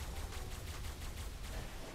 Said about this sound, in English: so we started damaging it with a tech rifle